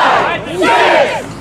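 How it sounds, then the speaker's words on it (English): A wrestling crowd at an RSW show shouts in unison, counting along with a loud, roaring chant, two swelling bursts of many voices filling the hall. "Crowd's counting along here with the RSW Heavyweight Champion"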